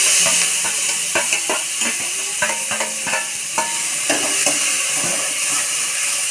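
Onion, curry leaves and coriander hiss and sizzle in hot oil in a pan, a steady bright frying crackle with occasional stirring taps and clinks, close and alone.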